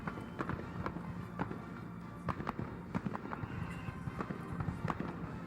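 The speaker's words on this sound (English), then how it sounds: "check out the fireworks, bro" Fireworks burst at a patriotic America 250 celebration, a string of sharp cracks and pops at irregular intervals over a continuous low rumble, moderately distant.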